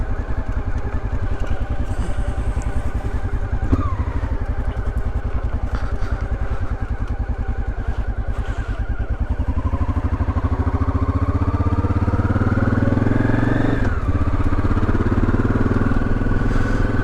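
Honda XRV750 Africa Twin motorcycle, just rebuilt, riding along with a steady loud engine drone that rises as it accelerates, with clear gear-change dips, heard close up from the bike with no talk.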